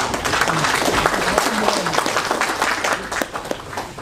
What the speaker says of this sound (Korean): 한 분 한 분 환영의 박수로 맞이해 주시면 감사하겠습니다.